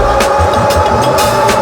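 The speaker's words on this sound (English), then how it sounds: "at max speed, the motor on this bike is quite a bit louder than I've experienced on other e-bikes" A Freedare Eden fat tire e-bike motor running at max speed, a steady loud whir mixed with rushing wind and tire roar, with a few brief gusty bursts throughout.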